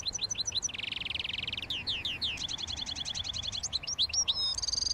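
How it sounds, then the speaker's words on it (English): A European goldfinch sings outdoors at dawn, a quick run of bright twittering chirps and trills repeated in bursts, fairly faint and distant against a soft background hush with no talk. "Do you hear that? The goldfinch."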